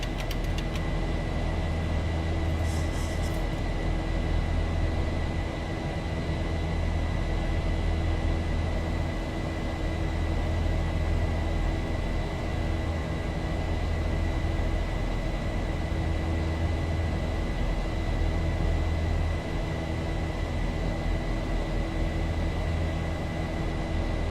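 Boeing 737 engines at climb power in the X-Plane 11 flight simulator, a steady broad roar with a constant tone running through it, loud and unchanging throughout with no talking.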